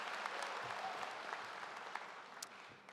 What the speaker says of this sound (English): Let's give them a nice another round of applause.